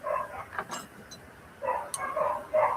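A small dog barks a few times in the neighbourhood outside a workbench room, the yaps faint and distant, scattered across a couple of seconds among light indoor clatter.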